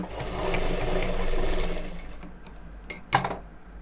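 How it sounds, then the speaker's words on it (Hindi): A sewing machine stitches a women's jacket, running in a loud, continuous whirring burst that slows and stops, followed by a few clicks and a sharp knock. "इस तरह से रखकर ऊपर सिलाई लगाएंगे।"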